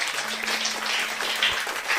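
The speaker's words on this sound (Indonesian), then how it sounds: "Tepuk tangan buat Raja kita." Church congregation applauding together, a dense, steady patter of many hands clapping at a moderate distance for about two seconds.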